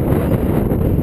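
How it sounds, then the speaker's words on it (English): Strong wind blowing outdoors on a hilltop, a loud continuous roar buffeting the microphone, with no voices. "I can hear that wind blowing."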